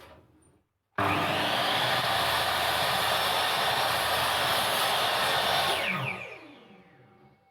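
A Hikoki 216mm fixed-rail mitre saw with its stock blade cuts through a length of 4x2 timber and plywood. One loud, close cut roars for about five seconds, then the motor winds down and fades out.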